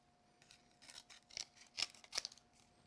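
Scissors trimming card around a curved frame for a handmade card, a series of quiet close snips coming a little faster and crisper toward the end.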